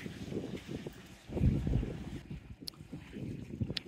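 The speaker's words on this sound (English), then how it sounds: "Windy but not rough, which is nice." Gusty wind buffets the microphone in low rumbling bursts near the coast after a storm, with faint water sounds in the background.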